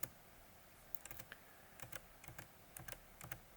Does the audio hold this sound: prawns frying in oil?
no